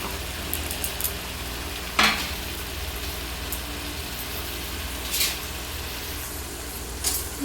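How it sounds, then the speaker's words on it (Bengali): Drumstick stalks fry in a pan with poppy seeds, giving a steady close sizzle broken by occasional clacks of a spoon or spatula stirring. "ডাঁটাটা কিছুক্ষণ পোস্তর সাথে হালকা একটু ভেজে নেব"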